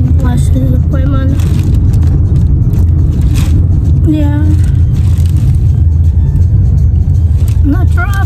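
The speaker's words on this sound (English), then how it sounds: "the traffic is insane right now" Car traffic noise heard from inside a moving car while driving, a loud steady rumble of engine and road throughout, with someone talking over it in short phrases.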